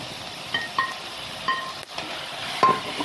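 Crushed fennel seeds, black pepper and green chilli are sautéed with clams in a pan, a soft steady sizzle broken by a few light clinks and scrapes of a spoon stirring, close and moderately quiet, no voices.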